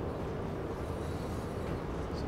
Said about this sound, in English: The HST is a pretty slow train and accelerates.